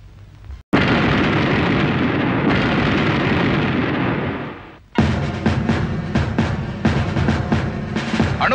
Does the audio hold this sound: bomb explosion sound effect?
yes